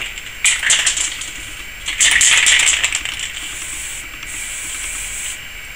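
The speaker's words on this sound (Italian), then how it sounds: "vernice spray." An aerosol spray paint can is sprayed in a few close, hissing bursts, one short, a longer one, then a steadier stretch, while refinishing a part on a Harley-Davidson Sportster during a carburetor fuel-fitting job.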